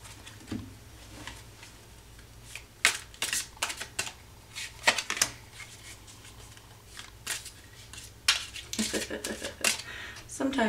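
Tarot cards are shuffled by hand in quick, irregular bursts of crisp riffling and slapping, close and fairly quiet over a low steady hum.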